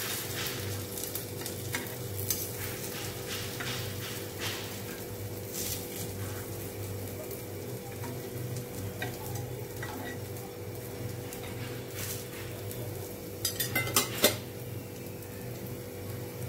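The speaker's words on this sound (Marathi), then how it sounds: "एका साइडने चांगले फ्राय व्हायला द्यायचे आहे, नंतर त्याला पलटी करायची आहे" Brinjal (eggplant) slices fry steadily in a pan, a constant soft sizzle with a few scraping, clinking stirs near the end as the slices are turned; no one speaks.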